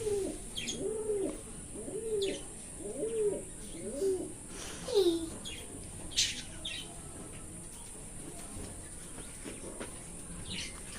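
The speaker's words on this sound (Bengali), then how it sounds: "পায়রা সমস্ত খাঁচায় থাকে" Caged pigeons coo in a repeated rolling rhythm, several soft calls in a row, then fainter chirps and rustles follow in a quiet indoor space.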